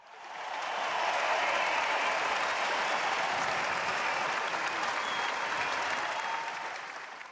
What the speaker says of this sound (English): A cheering crowd.